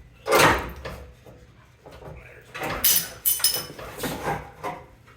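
A crash bar slides off the frame of a 1995 Pontiac Firebird in a shop: close scraping and clunking metal with a few knocks and rattles, scattered over several seconds.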